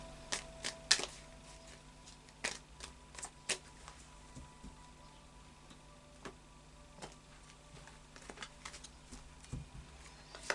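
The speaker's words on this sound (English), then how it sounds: "final shuffle of the Tarot of Dreams" A Tarot of Dreams card deck being shuffled: quiet, irregular clicks and riffling snaps of cards spread over about ten seconds, close and soft against a faint background hum, with no talking.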